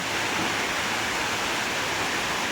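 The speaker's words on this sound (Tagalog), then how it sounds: "Kusog yapon kay uwan diri guys. Grabing uwan." Heavy rain pours steadily outside a house during a downpour, a dense, unbroken roar of broadband hiss that stays loud and even throughout with no voices.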